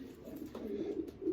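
A black eagle racing pigeon hen gives a soft, low cooing phrase at close range, brief and fairly quiet.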